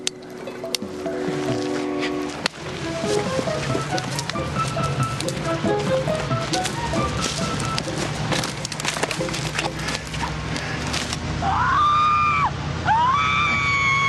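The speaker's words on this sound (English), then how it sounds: "They record the screams and then play them back to scare people out of the hollow" Recorded screams played back through loudspeakers echo through a wooded hollow over a busy, dense background of noise, with rising and falling wailing cries standing out clearly near the end.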